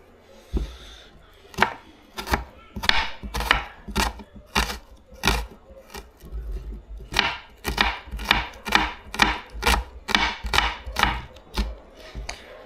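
Onion chopped for a dipping sauce to go with grilled fish, a knife striking the board in a steady run of sharp, close, evenly spaced thuds that carries on without pause.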